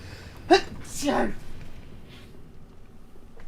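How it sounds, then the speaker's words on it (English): A single sharp sneeze up close, preceded by a quick intake of breath, followed by quiet. "I'm gonna sneeze again."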